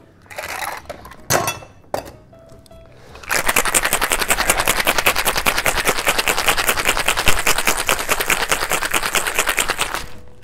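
A Hand Grenade cocktail made with Midori and pineapple juice is shaken hard in a shaker with ice. After a few clunks, a loud, fast, steady rattle runs for about seven seconds.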